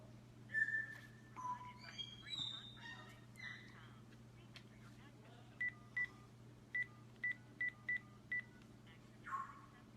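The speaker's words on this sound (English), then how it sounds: "Oh, you can hear the bird." A bird chirps and whistles in short bursts, then a run of evenly spaced beeps follows, over a faint steady hum.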